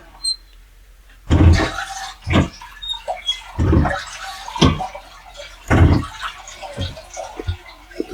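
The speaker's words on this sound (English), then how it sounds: "After you go, this is how you flush it." On the Ovation of the Seas cruise ship, a toilet with a vacuum flush mechanism gives several sharp, loud whooshing bursts of air and water, separated by brief quiet gaps, heard close up.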